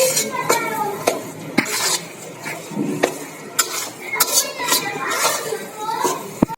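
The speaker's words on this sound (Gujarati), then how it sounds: "મિત્રો હવે આપણે તેને બરાબર મિક્સ કરી લઈએ।" Jaggery being stirred into ghee-roasted wheat flour for homemade sukhadi, a spoon scraping and clinking against the pan in irregular strokes with a faint sizzle underneath.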